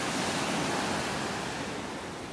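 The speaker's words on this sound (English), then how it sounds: "I'm getting hypnotized by the sound of the waves here." Ocean surf rolling onto a beach in North Naples, Florida under an overcast sky, a loud, steady wash of broadband noise with some wind, close and constant.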